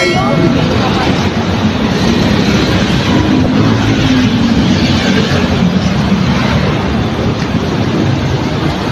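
A loud, continuous rumbling roar of an elevated MRT train passing close overhead, broadband and steady, with faint voices underneath.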